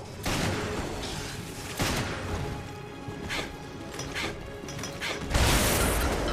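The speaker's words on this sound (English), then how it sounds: "So first I throw grenades, and now I'm throwing shock grenades." Grenade and shock grenade blasts in Resident Evil Revelations Raid Mode, several separate bursts spread over a few seconds, the last one heavy and booming, with clattering effects between them.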